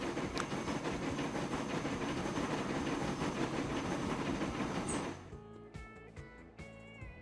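Train running in Transport Fever 2, a loud, dense rumble of wheels and engine filling the first five seconds before it abruptly drops away to quieter background game tones.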